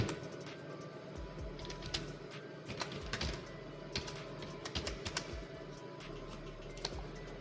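Typing on a computer keyboard, a series of quick irregular key taps with a few louder strokes, close and clear over a faint steady background hum.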